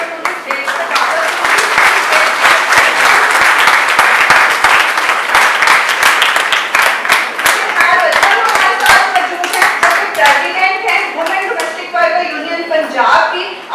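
A crowd applauds to welcome a speaker onto the stage at a May Day 2025 rally of women domestic workers demanding social security; sustained, dense clapping fills the whole stretch, loud and close, with voices faintly mixed in.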